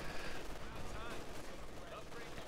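Continuous machine gun fire in the Company of Heroes 2 World War II strategy game, steady rattling bursts under a dense battle din, with a commentator's voice talking over it.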